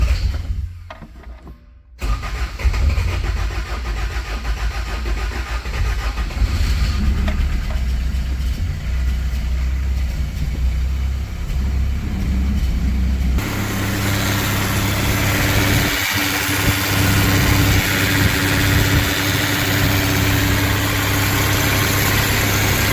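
A car engine, primed with several carburetor pumps, fires up after a brief quiet start and settles into a steady, loud, close idle with a low rumble that holds without talk.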